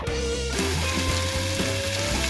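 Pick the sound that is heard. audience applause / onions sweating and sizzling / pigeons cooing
onions sweating and sizzling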